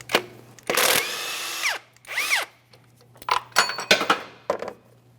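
A power tool spins off a bolt on a 2010-2013 Kia Forte Koup 2.4L L4 during accessory drive belt tensioner work, giving several short loud whirring bursts with rising and falling pitch, then metallic clinks and rattles, close up with no speech.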